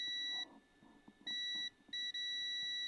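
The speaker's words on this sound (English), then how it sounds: "we should get a beep" A Nintendo DS Lite under repair gives repeated electronic beeps, a steady high tone sounding in three bursts separated by short gaps, with faint handling noise between them.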